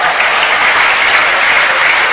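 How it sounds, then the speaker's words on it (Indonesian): A crowd claps throughout, loud and close, a dense continuous wash of applause with no gaps or voices over it. "Tepuk tangan dong buat saudara"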